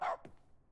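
A person mimics a dog, giving a single short, sharp bark into a wall-mounted receiver, quiet and brief, followed by a fainter tail.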